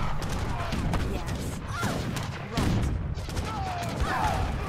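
Cannon fire in the real-time strategy game Age of Empires III, dense overlapping booms and crashes of artillery in continuous battle noise, heard alone without talk.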